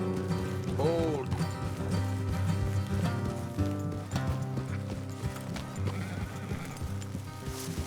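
Horses in Red Dead Redemption 2 clop along with steady hoofbeats, and one neighs clearly early on, over a busy game soundscape with faint mechanical clicks and quiet voices.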